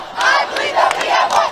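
A packed high school boys basketball gym crowd in Indiana chants "I believe that we have won" in unison, loud rhythmic massed voices rising and falling in repeated phrases, close and filling the space.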